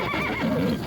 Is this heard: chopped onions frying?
no